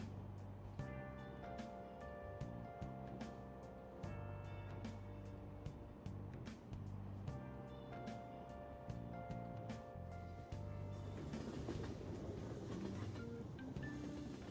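Train ride in Persona 5 Royal: a faint, steady rumble of a moving carriage with rhythmic clicks and tonal hum, shifting to a rougher, noisier rush near the end, with no talk.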